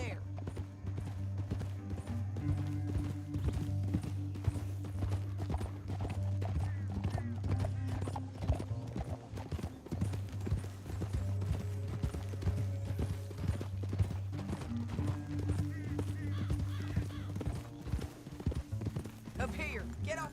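Steady rhythmic hoofbeats of horses galloping continuously in the video game Red Dead Redemption 2, with a low rumble and occasional voices speaking over them.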